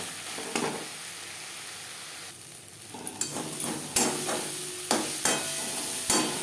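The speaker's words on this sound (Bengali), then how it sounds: "মশলা ও পেঁয়াজের সাথে লবণ হলুদ বেশ ভালো করে মিক্সড করে দেবো। টমেটো ম্যাশ করে দেবো।" Tomatoes are mashed with onion, salt, turmeric and spices in a frying pan, and the steady sizzle is broken by several sharp knocks and scrapes of the utensil against the pan.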